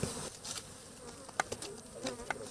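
Honey bees buzz around a hive kept by beekeepers, with faint intermittent wingbeat drones passing close by over a quiet background.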